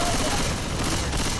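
Continuous rapid gunfire in the zombie shooter Left 4 Dead 2, a loud, dense, unbroken rattle of shots filling the whole short moment with no clear gaps.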